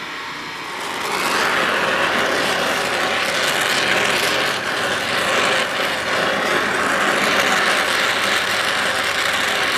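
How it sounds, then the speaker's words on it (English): A wrench works on the steering of a Yamaha G1 golf cart with a steady, loud whirring and ratcheting buzz that rises after the first second and runs without pause. "That's the wrench we use."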